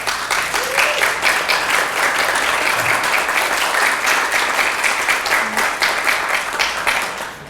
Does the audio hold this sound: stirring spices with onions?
no